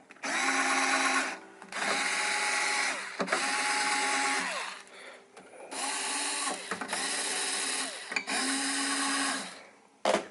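A string winder loosens the strings on a Martin guitar during a neck-reset setup: five loud, close whirring motor bursts, each a second or two long, separated by brief pauses.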